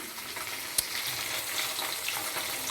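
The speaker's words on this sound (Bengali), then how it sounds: "মাছটা বেশি করেই ভেজে নিই" A steady, crackling sizzle of fish frying in hot oil, close and continuous, with a single sharp pop.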